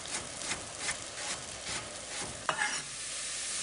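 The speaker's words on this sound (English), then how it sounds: "once the potatoes and onions are cooking in the butter, turn down the heat to low" Chopped potatoes and onions cooking in butter, a soft sizzle with rhythmic scraping strokes of a spoon through the pan, fairly close, then one sharp knock before the stirring stops and only the low sizzle remains.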